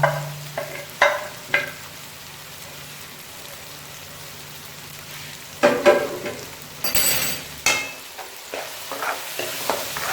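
Spices with coriander powder and garam masala frying in a pan for daal mash, with a quiet sizzle at first and then louder bursts of spattering and stirring scrapes toward the end.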